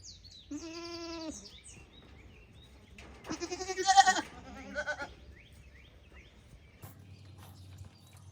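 Goats bleating in a farm pen, with a few separate calls: one clear bleat early, then a louder cluster of wavering bleats midway, over quiet background with some low thumps near the end.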